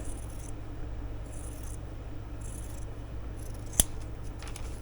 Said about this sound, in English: I've never had pinking shears like this.